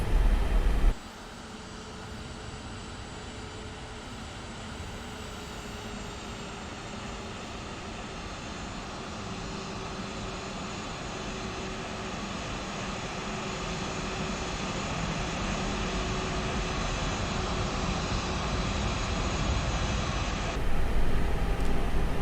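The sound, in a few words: Airbus A320 jet engines on takeoff roll, X-Plane 12 video game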